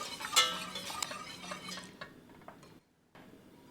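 A wooden spoon stirs a thickening vegan cheese mixture in a pot on the heat, giving soft scraping and sticky wet sounds that fade toward a brief silence.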